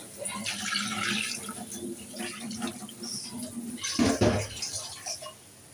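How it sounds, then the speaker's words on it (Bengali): Water poured into a cooking pot of beef khichuri, making a steady, close splashing stream throughout, with a heavier gush near the end before it tapers off. "জল দিয়ে দিলাম"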